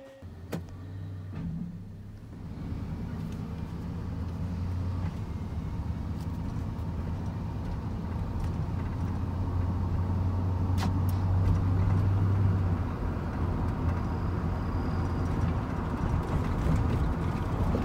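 A car with a rear main seal oil leak, treated with Lucas engine oil stop leak, cruises down the road, its steady engine and road rumble holding loud and close after a short idle start.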